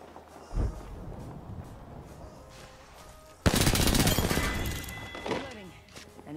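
Heavy video game gunfire erupts in a loud, dense burst of rapid automatic shots with sharp impacts, continuing for several seconds, preceded by a single isolated bang and set among excited in-game talk.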